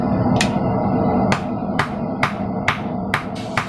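One half of a blacksmith's tong forged on a new, unsecured anvil: a steady low forge roar, then sharp ringing hammer blows landing about every half second, loud and close, with no talking.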